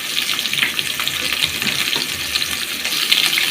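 Potatoes fry in a pan with salt, giving a steady, dense sizzle that crackles evenly throughout, close up and with no one talking.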